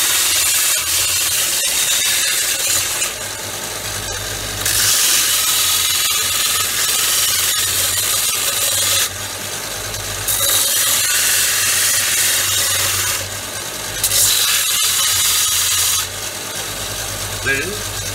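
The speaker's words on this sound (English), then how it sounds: "I use it on my belt sander." A belt sander grinds down guitar frets in a workshop with a loud, continuous abrasive whir, its rasping pitch shifting in repeated cycles as pressure on the workpiece changes.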